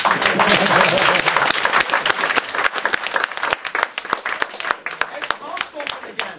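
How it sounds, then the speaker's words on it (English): A theatre audience at a mind-reading stage show breaks into loud, dense applause that thins into scattered individual claps, with voices talking over it as it fades. "everyone here will give everyone involved a very big round of applause"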